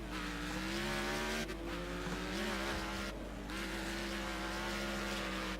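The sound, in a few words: car racing in Next Car Game, video game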